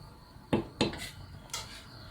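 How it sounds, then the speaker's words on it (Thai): Multigrain rice porridge being stirred in a pot, a few sharp spoon scrapes and knocks against the metal at close range, spaced apart with quiet between them. "คนไม่ให้เขาติดก้นเช็คให้เรียบร้อยนะคะว่าติดก้นหรือเปล่า"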